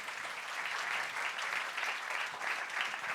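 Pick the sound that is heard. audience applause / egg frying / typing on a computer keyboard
audience applause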